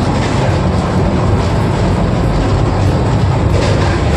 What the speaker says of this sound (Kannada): ಟ್ರೈನ್ ಬಂದುಬಿಟ್ಟು ನಿಯರ್ಲಿ 120 ಸ್ಪೀಡಲ್ಲಿ ಹೋಗ್ತಾ ಉಂಟು